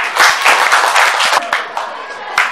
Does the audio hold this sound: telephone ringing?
no